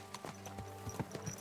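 Horse hooves clip-clop in a quick, faint rhythm in Kingdom Come: Deliverance 2, a medieval video game, as a horse passes at a moderate distance with no talk.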